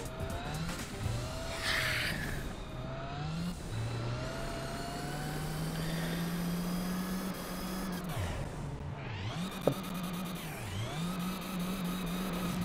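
A race car in the Gran Turismo 4 video game spins out on the icy Whistler Ice track. A steady engine drone rises and falls through the spin, with a brief sharp click near the end and no talking.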